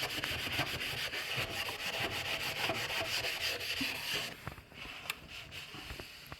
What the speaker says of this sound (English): It's a good hard scrub.